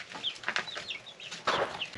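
Backyard chickens clucking at dusk on a mountain homestead, a steady run of short, bright clucks and chirps from several birds close by, with one louder burst of calls near the end.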